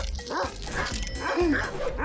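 A dog barks and yips in short bursts at close range, with no one talking.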